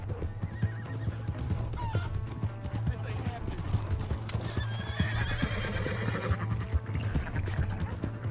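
A horse neighs and its hooves clatter in Red Dead Redemption 2, loud and close, the whinny rising over steady hoofbeats and a low engine-like hum, with voices talking throughout.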